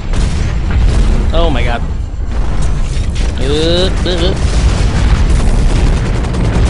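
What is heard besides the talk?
turret gunfire and explosions in the video game Hawken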